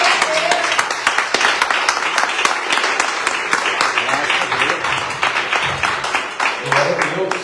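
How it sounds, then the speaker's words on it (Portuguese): A church congregation clapping during a service, with loud, close, rhythmic claps in a steady stream and voices talking and calling out beneath them. "As palmas vão do Senhor."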